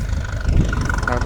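A tractor engine turning around in a farm field gives a low, steady rumble beneath someone talking close by.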